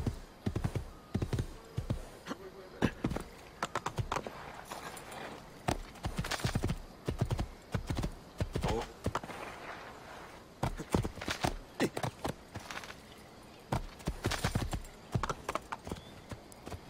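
A horse in Assassin's Creed II trots with a steady, rhythmic clip-clop of hooves that continues without letup, moderately close and heard without talk.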